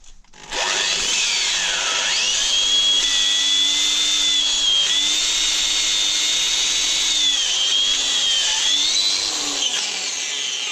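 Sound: power drill drilling holes

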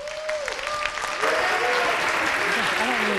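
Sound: audience applause welcoming a speaker

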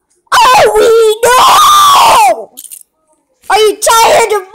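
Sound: person screaming

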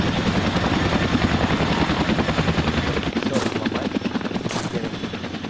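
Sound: helicopter in video game ArmA 2 ACE

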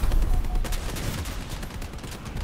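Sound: machine gun fire in War Robots video game

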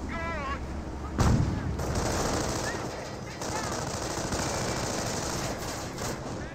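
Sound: sniper shots and MG42 machine gun fire in Company of Heroes video game

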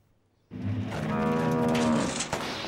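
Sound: cartoon car making cow mooing noises

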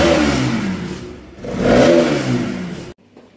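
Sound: car engine revving

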